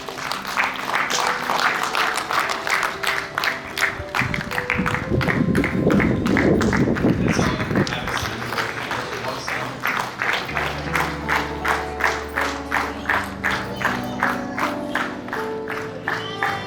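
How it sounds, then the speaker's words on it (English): An audience applauds as a bride-to-be enters at an engagement celebration, with steady, rhythmic clapping that goes on at length and a swell of crowd noise partway through, close and full, alongside music. "So quick round of applause for Neetu as she enters."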